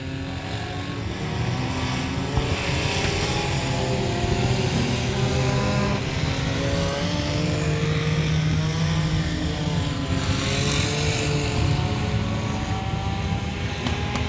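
Four-cylinder compact race cars in a factory stock heat at a night speedway drone steadily as they run down the back stretch into a turn, engine pitch rising and falling at mid distance.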